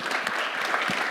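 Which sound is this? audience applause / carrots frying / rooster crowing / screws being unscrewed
audience applause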